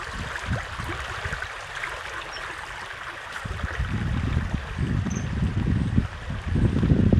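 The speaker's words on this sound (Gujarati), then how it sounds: "જો કેવું પાણી જાય" Continuous rushing and gurgling of floodwater flowing through a farm field and along a road, growing louder and more turbulent in the second half, with wind buffeting the microphone.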